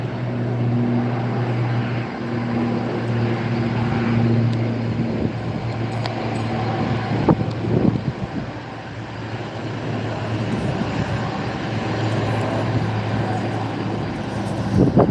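Royal Air Maroc airliner taxiing at Gran Canaria Airport, a steady engine drone with low tonal hum holding throughout, fairly near and continuous, with a few brief clatters midway.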